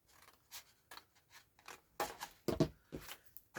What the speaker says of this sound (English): I'm going to fold it there and cut this piece away.